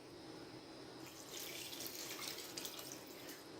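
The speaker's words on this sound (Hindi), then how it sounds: "पानी ऐड करेंगे।" Water is poured into a cooking pot of chicken pulao, making a soft, steady splashing rush that is faint and continuous throughout, with no talking.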